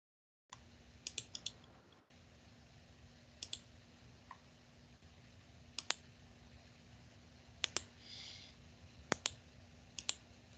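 Sparse clicking of keys on a computer keyboard while entering a rational function into Desmos. The clicks come in small irregular clusters, close but faint, over a low steady hum.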